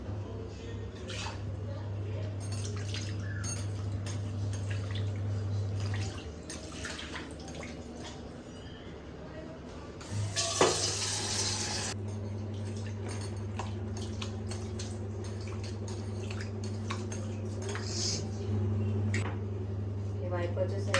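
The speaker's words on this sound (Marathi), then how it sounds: "सगळीकडे पाणी टाकायचं." Water poured and splashed all over a gas stove top during cleaning: a short rushing burst of liquid rises over a constant low hum, with drips and faint voices around it.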